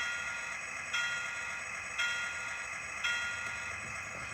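A model locomotive's DCC sound decoder rings a small electronic bell in a steady repeating pattern, about one strike per second, thin and tinny over a constant background hum.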